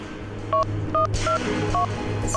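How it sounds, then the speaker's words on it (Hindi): A quick series of five telephone keypad tones, short electronic beeps at slightly uneven intervals over a low background hum. "तू ऐसा कर, उस नंबर पे डायल कर।"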